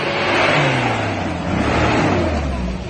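Engine revving of a toy off-road jeep or monster truck, a steady droning whir with rising and falling pitch, loud and close, heard alone throughout.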